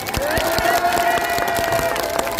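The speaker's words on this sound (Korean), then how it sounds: "큰 박수를 해주시기 바랍니다" A crowd at a Korean presidential campaign rally claps in scattered, crisp bursts, while a steady held voice or tone runs beneath the clapping throughout.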